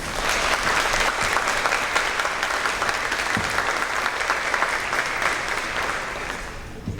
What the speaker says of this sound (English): If you'll give her a round of applause, Ms. McCord.